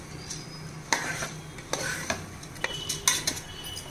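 Basmati rice being stirred into hot oil in a pot for prawn pulao, a steady sizzle broken by several sharp scraping strokes of a spoon against the pan, close and alone.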